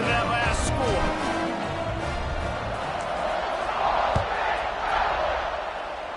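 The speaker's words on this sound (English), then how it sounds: "this crowd is buzzing after that last score." A football stadium crowd buzzes and cheers before a kickoff, a dense roar filling the whole stretch while a commentator talks over it.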